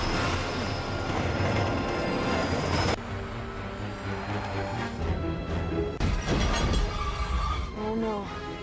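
Film scene of a train derailing spectacularly, with loud rumbling rail noise and crashing giving way to squealing wheels and scattered clatter, voices heard intermittently.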